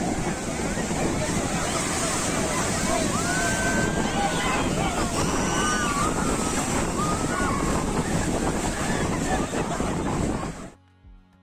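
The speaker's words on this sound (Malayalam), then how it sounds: "ഭയങ്കര കാറ്റാണ് അവിടെ." Strong wind at the seashore in Kanyakumari roars steadily against the microphone over crashing surf, a loud continuous buffeting that lasts about ten seconds before cutting off abruptly.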